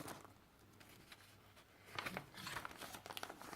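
A paper bag crinkles and rustles as it is handled among junk journal papers, quiet at first, then a cluster of sharper crackles toward the end.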